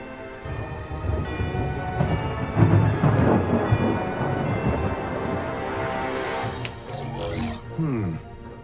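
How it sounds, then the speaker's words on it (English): Rumbling thunder from an electrical storm in an animated kids' show rolls on, with heavy low booms building and fading amid rain and other noises, while a voice speaks at times. "The electrical storm is approaching faster than we thought."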